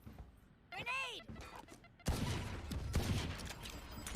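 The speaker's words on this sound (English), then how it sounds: "Hearing the gunshots come through." Gunfire in a video game esports match: a sharp burst of shots breaks out and continues as a dense, loud rattle, preceded by a brief sweeping synthetic tone and softer effects.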